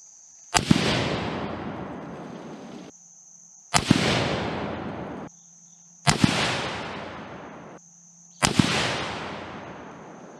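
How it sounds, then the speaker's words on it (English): Four loud, sharp rifle shots from a .257 Roberts, fired at a steady pace about two to three seconds apart on a shooting range, each crack followed by a long rolling echo that fades before the next. "now we're going to shoot this rifle, four-shot group, same load, same bullet"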